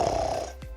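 A voice imitates a single drawn-out snore, a low rattling breath in close and fairly soft.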